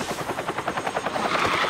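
A helicopter in the video game Earthfall thrums nearby with fast, even rotor chops that grow slightly louder and denser toward the end, heard alone without talk.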